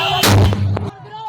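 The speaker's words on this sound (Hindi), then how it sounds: "ताजिया 33 किलोवाट हाई टेंशन लाइन से टकरा गया, जिसके बाद धमाके के साथ आग लग गई।" A loud, sudden blast rings out as a Muharram tazia float strikes a 33 kV high-tension power line, a single heavy boom that decays over about half a second into background noise.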